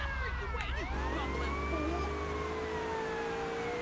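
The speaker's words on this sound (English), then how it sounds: "Might as well run lights and sirens," A police car siren wails in the Grand Theft Auto: Vice City video game, its sweeping tone rising and falling steadily over a low engine rumble, fairly quiet and alone.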